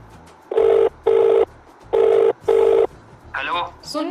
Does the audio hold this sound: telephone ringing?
yes